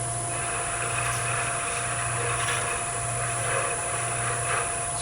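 A lathe tool hollows a small brown ebony miniature, a steady whirring motor hum with a continuous scraping rub of the cutter on the spinning wood, close and even throughout.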